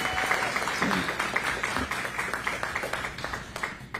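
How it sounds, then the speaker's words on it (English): Audience at a school board meeting claps for a speaker, a full round of applause that thins toward the end into scattered individual claps. "let's give her a big round of applause"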